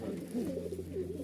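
A Rajshahi Giribaj pigeon coos softly in a few low, rounded phrases, close by, with a faint murmur of background noise.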